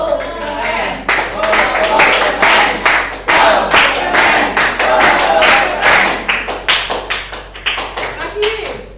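A group of children in a classroom clapping game claps together in rhythmic bursts of sharp, loud claps, pausing between patterns, with voices chanting along in between.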